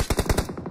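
Rapid automatic gunfire from PUBG Mobile crackles in a quick burst of about seven close, loud shots, with a short tail fading out after them.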